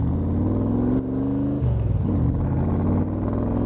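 A 1965 Shelby Cobra drives with a loud, close engine drone. The pitch climbs, then drops as the car shifts and pulls away again, with no talking.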